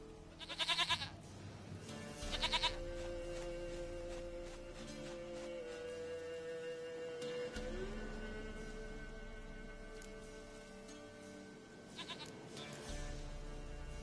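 A goat bleating in the open-world game The Witcher 3, a couple of loud calls early and more near the end over a low, steady ambient background.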